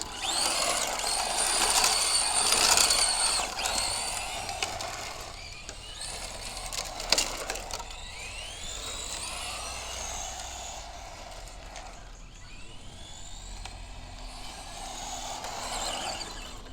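A Tamiya McLaren Senna RC car on a TT02 chassis drives around on tarmac, its small electric motor whining and rising and falling in pitch as it accelerates and turns, moderately close and steady without any talk.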